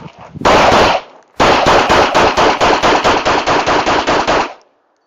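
A Tisas PX-9 GEN3 pistol, already thrown, kicked and dropped in torture testing, fires a full magazine as a fast string of loud, close, sharp shots after an opening burst, then falls silent.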